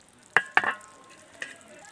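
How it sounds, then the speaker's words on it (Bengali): A spoon stirs Kuche fish curry in a pan after garam masala goes in, giving two sharp scraping clinks close together and a fainter third, over a quiet low sizzle. "গরম মশলা দিয়ে দিচ্ছি, নেড়ে দেবো।"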